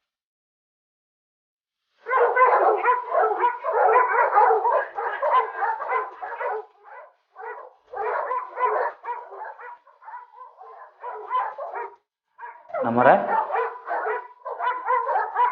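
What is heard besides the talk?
dogs barking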